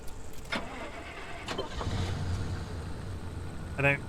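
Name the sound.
car engine starting in a video game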